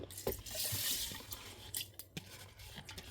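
Water is poured over 100 grams of ragi to soak it: a soft, continuous trickle and splash at close range, with a few faint drips, and no talking.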